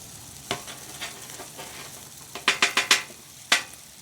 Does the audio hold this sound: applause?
no